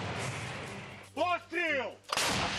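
A voice shouts a short call, then a Western-supplied artillery gun in Ukraine fires a single shell with a loud, sharp blast over a constant low rumble.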